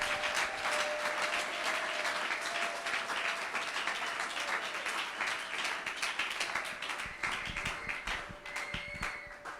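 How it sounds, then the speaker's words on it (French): A church congregation at a Sunday service applauds steadily for close to ten seconds, a dense wash of many hands clapping with a faint sustained tone underneath and scattered voices near the end. "Que quelqu'un acclame Jésus."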